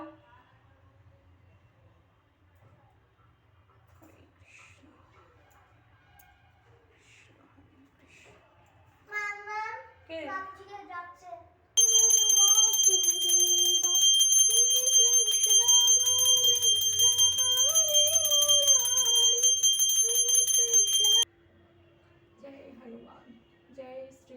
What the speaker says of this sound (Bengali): মিঠাই একটু দেখ তো কে বেল বাজাচ্ছে